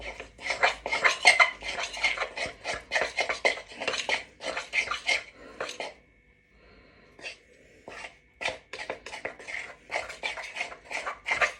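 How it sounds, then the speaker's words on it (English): Blue cake icing is stirred hard in a bowl with a knife, producing rapid, rhythmic scraping clinks of metal against the dish, close and fairly loud, with a brief pause midway before the quick stirring resumes. "You gotta really stir it up now with the knife."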